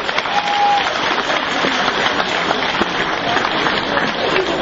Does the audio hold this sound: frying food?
no